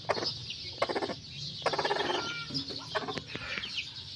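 Chickens cluck close by where hens are laying eggs, a string of short rhythmic clucks and squawks in bursts over a low background murmur.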